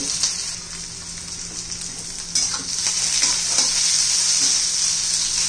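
Leftover chapati noodles stir-frying in a hot pan, a steady bright sizzle with occasional scrapes of the spatula, close and continuous.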